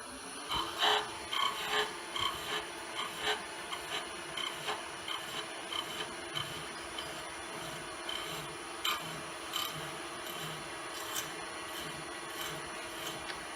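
A round carbide turning tool cuts wood on a lathe, throwing off ribbons: a steady rasping scrape with soft rhythmic pulses, loudest in the first seconds and then continuing more evenly.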